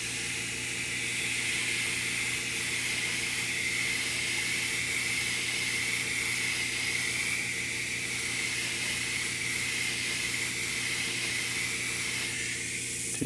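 Steady, continuous hiss of spray paint laying down mist coats on a quarter-scale custom build, held loud and unbroken throughout with a hum underneath.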